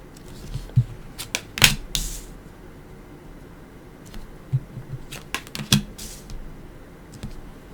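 Tarot cards are shuffled and laid down in a quiet room, with a scatter of sharp clicks and soft flicks arriving in irregular bursts, close and alone.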